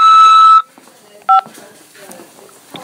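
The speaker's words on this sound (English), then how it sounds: "press 5 to accept this call." A single keypad tone sounds briefly, then another short two-note tone follows after a pause, with faint background noise between them.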